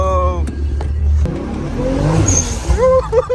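A 700 hp Nissan R33 GT-R with a swapped 2JZ engine and antilag drives hard, its engine rumbling and revving loudly from inside the car with sharp pops and crackles.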